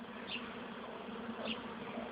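Steady, continuous buzzing of bees, close and moderately loud, with a constant droning hum throughout.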